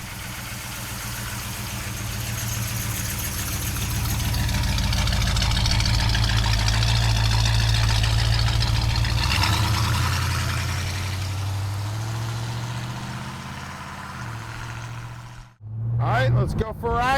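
A 1969 Pontiac GTO Convertible engine idles close by, with a deep steady burble that swells louder in the middle and fades, ending in a brief abrupt cutoff and some handling noise.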